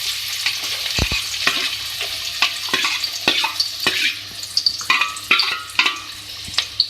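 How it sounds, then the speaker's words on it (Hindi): Two sliced onions frying in oil in a pan for aloo ka salan, a steady close sizzle broken by repeated scraping stir strokes and light clinks throughout. "लाइट गोल्डन, इसको हम फ्राई कर लेंगे"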